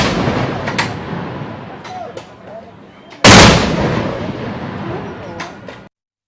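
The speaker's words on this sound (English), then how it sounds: "Major Dave Karachi Sande was accorded a 13-gun salute" A military gun salute fired as honours for a major, heard as a single loud, sharp blast that rings out and decays over a steady crowd-like background murmur.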